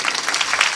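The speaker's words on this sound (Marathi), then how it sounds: "टाळ्या वाजवा ना जोरदार" Audience at a Marathi devotional kirtan claps in a dense, steady burst of applause, many hands together at moderate distance with no voices over it.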